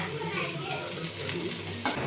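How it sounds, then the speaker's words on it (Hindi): Dry bitter gourd sabzi with a mustard seed tempering stirs and sizzles steadily in a pan, a continuous close frying hiss with a sharp clatter near the end. "अभी बना रही हूँ मैं करेले की सब्ज़ी, ऐसे सूखी सूखी बना रही हूँ।"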